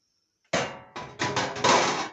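A heavy hammer of professional supplies is handled, giving several close, loud knocks and clunks in quick succession after a moment of silence.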